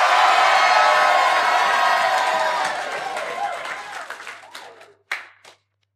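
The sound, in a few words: congregation applause and cheering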